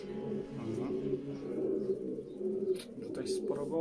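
Pigeons at a racing pigeon breeder's loft coo in soft repeated rolling calls close by, with people talking over them.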